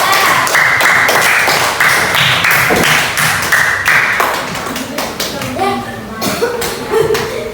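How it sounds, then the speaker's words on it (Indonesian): A classroom group claps their hands in a loud burst of scattered applause for a presenting group of students, and voices begin talking as the clapping fades near the end. "Beri tepuk tangan untuk kelompok 3."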